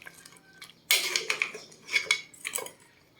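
A spoon stirs pork head paksiw in a metal pot, making bursts of clinking and scraping against the sides, with a quiet pause before the first scrape and a few separate strokes after it.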